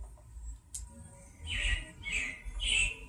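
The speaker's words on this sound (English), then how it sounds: "it looks like the Robins are getting ready to celebrate Valentine's Day today" Robin calls at the Carousel of Progress attraction, a few bright chirps and squawks in bursts over a low background hum, moderately close.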